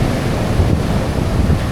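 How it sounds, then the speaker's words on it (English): High, foamy sea waves roll in at an unusually high tide on a beach, a continuous loud wash of surf mixed with wind buffeting the microphone throughout, no voices. "and those waves are quite high."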